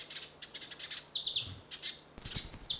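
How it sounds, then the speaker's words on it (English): New Holland honeyeaters calling in summer bush at Murramarang, a series of high, thin chirps and quick tweets from several birds, fairly close, repeating in short bursts over soft background. "Like all songbirds, New Holland honeyeaters too receive a boost of numbers during summer."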